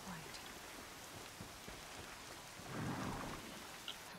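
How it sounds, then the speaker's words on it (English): Steady rain with rolling thunder in the Horizon Zero Dawn video game, a constant wash of rainfall with a deeper thunder rumble swelling near the end. "Raining like it's trying to wash everything away."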